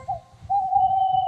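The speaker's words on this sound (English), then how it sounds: "Whenever that owl hoots, a mist rolls in." An owl hoots in a spooky Halloween train story, one long sustained tonal hoot that swells and holds steady, set over a soft rhythmic chugging rumble of a steam engine pulling a goods train.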